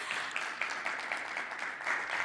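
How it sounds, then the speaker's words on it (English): An audience at a Standard Bank business and commercial banking event claps in sustained applause, a dense, steady patter of many hands filling the room with no voices over it. "let's give Penny a big round of applause as she comes up"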